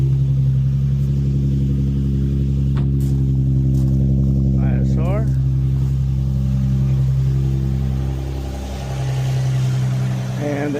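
An Infiniti G25 with an Injen intake installed idles and revs steadily up close, its low engine drone continuous throughout, while a person speaks briefly over it.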